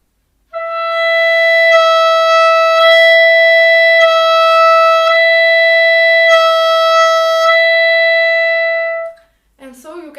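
A clarinet holds one steady warm-up tone with a vibrating, fluttering tongue and a slightly lowered pitch, loud and close for several seconds before stopping, followed by a brief voice.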